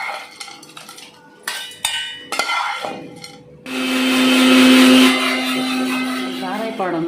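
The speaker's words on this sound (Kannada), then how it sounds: "ನೀರು ಪಾಡಂದೆ ಇಂಚಿನ ಡ್ರೈ ಪೊಡಿ ಮನ್ಪು ಮಿಕ್ಸಿಡ್ ಪಾಡ್ದು" A mixer grinder grinds dry spice powder, starting with a few short pulses and then running in a loud, steady whirring drone, after scattered kitchen clinks and clatter.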